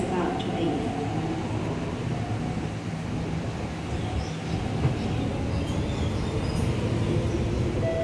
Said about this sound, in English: please stand behind the yellow line as the train is about to leave